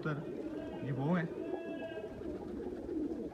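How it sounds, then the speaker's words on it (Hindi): Faisalabadi Jansra pigeons coo softly and repeatedly in a low, throaty murmur, close by, with rustling and some background chatter mixed in. "ये फैसलाबादी जोनसन कबूतर, पुराने जोनसन कबूतर ये वो हैं"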